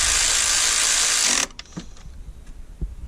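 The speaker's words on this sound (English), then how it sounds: "this is probably my favorite tool, electric ratchet" An electric ratchet snugs bolts on an engine intake, a loud, dense whirring burst lasting about a second and a half, then stops sharply, leaving only faint clicks and handling noises.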